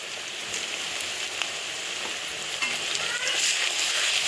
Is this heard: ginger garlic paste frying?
yes